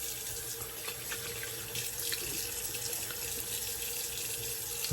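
Running tap water pouring steadily into a sink while rinsing off after a shave, a continuous close splashing rush with no talking.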